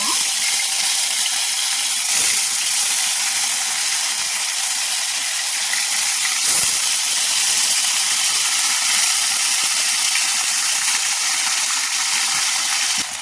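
Kath alu (yam) pieces fry in hot oil with a loud, steady sizzling hiss that holds without a break, faint knocks now and then, and no voice over it.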